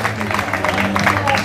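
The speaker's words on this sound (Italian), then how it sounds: "Applauso per Vittorio." Applause from a small crowd at a hill climb race prize ceremony in Laganadi, Calabria, a brief burst of steady clapping with a voice over the loudspeaker talking through it.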